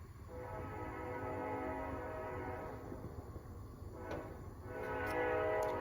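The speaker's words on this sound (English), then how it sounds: "we got to have our train interrupt the episode" A train rumbles steadily at a distance, with its horn sounding in short faint blasts toward the end.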